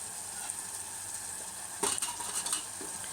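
A spoon stirs mutton curry with ginger garlic paste in a pan, faint sizzling under a few scraping clinks against the metal, close and brief.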